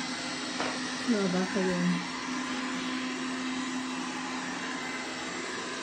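A vacuum cleaner running on a schedule gives a steady, even whoosh through the whole stretch, with a short spoken question near the start.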